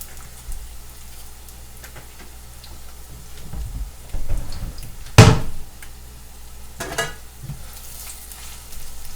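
Tortillas fry in oil in a pan with a steady low sizzle, broken by a few scraping stirs and one sharp knock near the middle.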